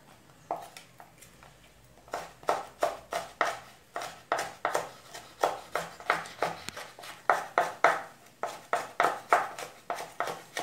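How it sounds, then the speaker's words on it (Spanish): Knife chopping green bell pepper on a board, a steady run of sharp, regular cuts close up that starts sparse and becomes quick and rhythmic. "Ya aquí estamos picando el pimiento verde"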